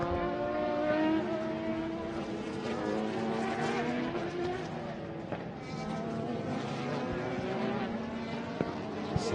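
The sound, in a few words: race cars on track during circuit race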